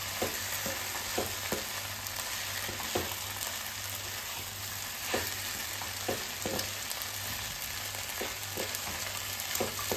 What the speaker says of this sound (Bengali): একটু নাড়াচাড়া করেই তৈরি হয়ে যাবে আমাদের সাবু ঘুগনি